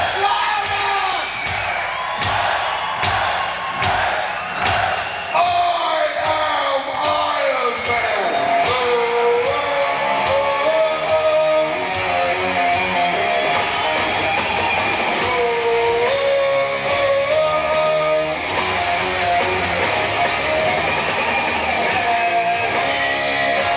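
Stadium crowd at a 1996 concert at the RPI Field House, voices singing along to a riff over loud band, with cheers and whoops throughout, steady and dense.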